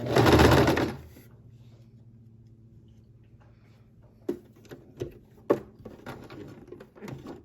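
A sewing machine stitching a Kalle shirt whirs in one loud burst at the start, then falls quiet apart from scattered clicks and taps as the fabric is adjusted for a back stitch.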